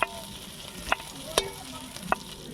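Prawns fry in oil in a kadai, giving a quiet, steady sizzle broken by a few sharp crackling pops at irregular intervals.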